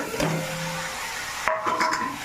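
Shredded cabbage fries in a pan with a soft, continuous sizzle, interrupted by a couple of brief stirring scrapes and clanks from the utensil against the pan.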